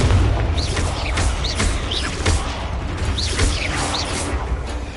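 Confringo fire spell blasts in Hogwarts Legacy land as a run of deep booming impacts with crackling tails, several in quick succession over a continuous rumbling backdrop.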